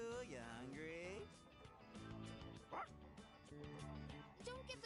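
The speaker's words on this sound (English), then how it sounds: "Don't give the dog raw fish." A dog in the video game Persona 3 Reload barks in short yips and whimpers near the start, over steady game music and background sound.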